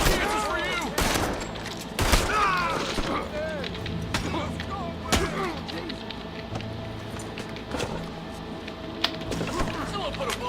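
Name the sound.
gunfire in the video game Red Dead Redemption 2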